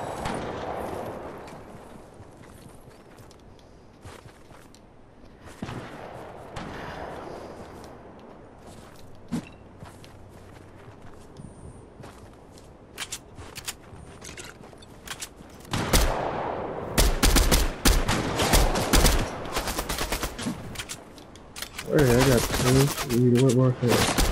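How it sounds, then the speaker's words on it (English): Several players fire at once in a video game shootout, scattered shots at first that build into loud, dense bursts of overlapping gunfire near the end, with a voice talking over parts of it. "five people shooting at me at the same fucking time"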